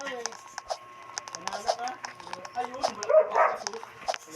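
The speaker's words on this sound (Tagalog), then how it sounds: "Ang dami kasing aso guys." Several dogs, including K9 police dogs, yap and whimper in short, excited bursts nearby, with a few voices murmuring in the background.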